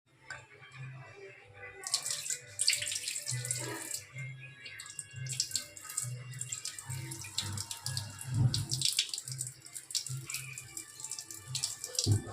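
Water splashes and swishes in a vessel as rice semolina is rinsed by hand for idli batter, with a running tap and clinking in the background.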